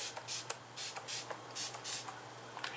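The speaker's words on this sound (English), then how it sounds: "spray yourself with MAC Fix Plus again" Several short hissing bursts of MAC Fix Plus setting spray mist, some quick and some longer, spaced irregularly and close by with no talking.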